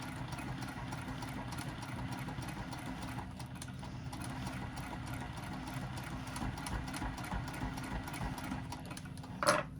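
A sewing machine stitches a lined box-bottom zipper pouch, running in a continuous even motor hum and needle chatter throughout, with a short clunk at the very end.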